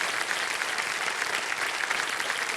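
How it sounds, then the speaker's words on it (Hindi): Audience applause in a game show studio on Kaun Banega Crorepati, a dense, even clapping from a large crowd, loud and continuous throughout. "तालियां बज जाएं इनके लिए।"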